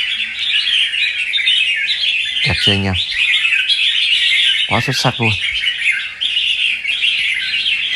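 A caged red-whiskered bulbul (chào mào), a wild-caught bird picked for song and fighting, gives two short, bright bursts of song over a steady high buzzing background while someone talks.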